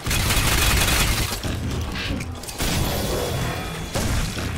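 Grenade explosions and gunfire in the Crysis 2 game, loud booming blasts and rattling bursts filling the scene, with a brief lull before the heavy noise resumes.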